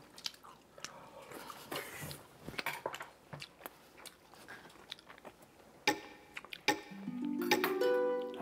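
Quiet, close chewing and crunching of food eaten with rice and stir-fried pork, with occasional dish clinks and faint low voices.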